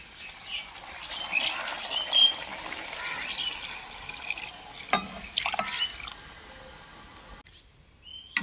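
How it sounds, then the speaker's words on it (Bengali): Water is poured into a pot of simmering chicken and potato curry to make gravy, a bubbly splashing trickle with faint chirpy gurgles that cuts off abruptly near the end. "এই দেখো এখন ঝোলের জন্য পরিমাণ মতো আমি জল দিয়ে দেবো।"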